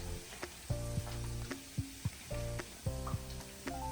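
Nihari cooking in a pan gives a steady sizzle, with short clinks and tonal clatter from stirring repeating over it.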